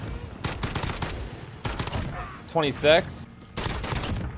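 FAL rifle gunshots in the video game Modern Warfare ring out in a few quick sharp bursts, separated by brief gaps, while a player speaks a single word between them.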